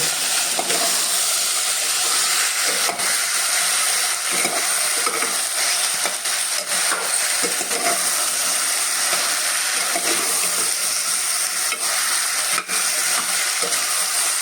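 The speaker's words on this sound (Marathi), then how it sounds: "या भाज्या आपण हात घालून हे असं व्यवस्थित एकदा परतून घेणार आहोत" Vegetables for a quick Konkan-style khichda are stirred and sautéed in a hot pan, giving a continuous loud sizzle and hiss with scraping stirs throughout.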